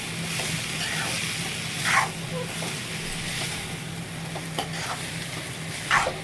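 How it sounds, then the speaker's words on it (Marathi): Noodles are stirred and tossed in a pan, giving a soft, continuous scraping and sizzling with a few louder clinks of the utensil against the pan. "नूडल्स टाकून झालेत आपले व्यवस्थित तर मिक्स करून घेऊया आपण"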